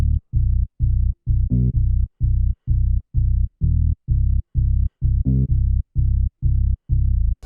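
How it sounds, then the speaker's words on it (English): A basic 808 bass from a Madsko sample pack in FL Studio, deep booming hits pulsing in a steady rhythm of short, evenly spaced notes, loud and up front with nothing else playing. "Very basic 808 and sounds like this."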